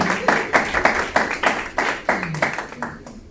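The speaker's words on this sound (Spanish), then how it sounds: "Un fuerte aplauso para aquí" Steady rhythmic clapping from a small church group, close and fairly loud, continuing for a few seconds.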